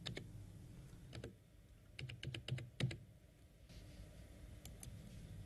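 Typing a username and password on a computer keyboard, faint clusters of quick key taps separated by pauses over a low background hum, close and quiet with no speech.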